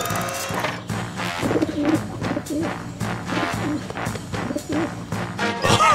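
A cartoon pigeon coos in a kids' animated show about a solar-powered super truck in a car city, with soft repeated coos set against busy music and effects.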